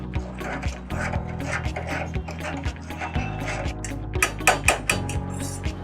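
A utensil scrapes and clinks against a metal pot as sliced potatoes are stirred with a little white oil and turmeric, giving irregular close knocks and scrapes over a low steady hum.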